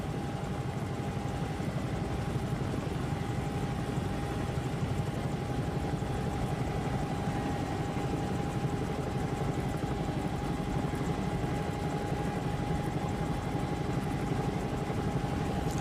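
A Bell 222 helicopter flying in a flight simulator game, a steady unbroken rotor and turbine drone with a sustained high whine running throughout, loud and close with no talking.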